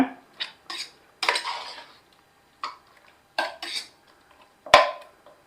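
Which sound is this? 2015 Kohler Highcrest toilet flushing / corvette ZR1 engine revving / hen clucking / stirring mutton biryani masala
stirring mutton biryani masala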